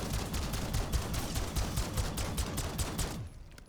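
Sustained automatic gunfire rattles in a rapid, even stream while the trigger is held down in Black Ops 7 Zombies, then cuts off just before the end.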